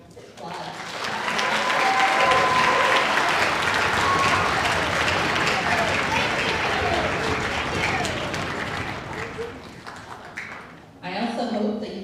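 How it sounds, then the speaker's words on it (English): An audience at an elementary festival band concert gives the student musicians a long, dense round of applause, sustained clapping that tapers near the end before a voice briefly comes in. "let's give them all a round of applause"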